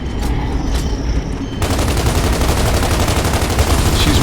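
Dense gunfire from the video game Gears of War 2 erupts after a brief quieter stretch, then continues as a loud, sustained rattle of rapid shots with no talking.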